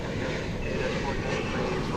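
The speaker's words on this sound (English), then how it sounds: "United Flight 2655 to Denver, an Airbus A319." A 24-year-old United Airbus A319 airliner at DFW Airport bound for Denver produces a steady, broad engine roar, moderately loud and continuous, with a voice talking over it.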